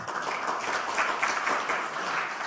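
A large party conference crowd claps in dense, steady applause at moderate distance, with no talk over it.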